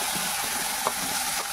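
Food fries in white oil with salt, turmeric and chili powder in a wok, giving a dense, steady close-up sizzle with faint stirring and no pauses.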